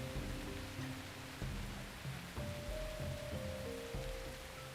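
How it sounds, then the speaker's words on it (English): Steady rain patter with a soft hiss, likely from the Spirit Lo-Fi app, running continuously under faint low tones while playing World of Warcraft. "Do you hear, like, rain?"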